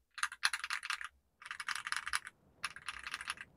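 Rapid bursts of clacky typing on a Drop CSTM65 full-aluminum mechanical keyboard, three runs of keystrokes separated by brief pauses, close and crisp.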